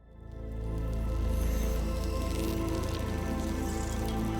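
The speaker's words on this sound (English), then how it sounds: "it's raining pretty fucking hard right now" Heavy rain in the video game Returnal, a loud, continuous hiss of downpour with a deep low rumble that swells up within the first second and then holds steady.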